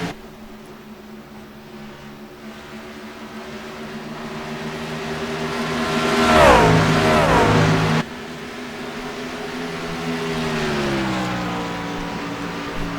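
Race trucks at an OCRL truck championship roar on the track, a continuous engine drone whose revs rise and fall, swelling louder as a truck sweeps past midway before dropping back to a steadier growl.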